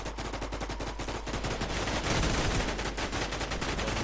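Rapid gunfire from the online survival shooter WarZ, dense automatic bursts and overlapping shots filling the whole stretch, loud and continuous with no talking.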